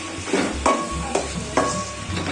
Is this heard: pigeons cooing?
no